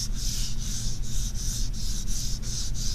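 A smooth, unpolished wooden dowel about 12 inches long and 1 inch thick is rubbed in steady back-and-forth strokes, a close, even swishing with about ten regular passes.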